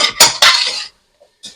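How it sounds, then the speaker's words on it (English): A utensil scrapes and clanks against a pot while vegetables and rosemary are stirred together, giving two or three quick close metallic strokes followed by a brief pause and another light scrape. "Stir that together."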